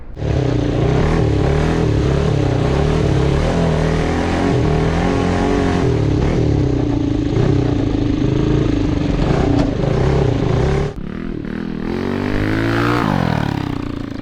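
A tiny mini bike fitted with a 23HP engine revs hard in deep mud, its loud close engine droning and roaring steadily, then dropping and rising again as the rear wheel spins.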